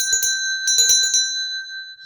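A notification bell sound effect rings in two quick bursts of bright metallic strikes, each a rapid flurry of dings, leaving a clear sustained tone that fades out.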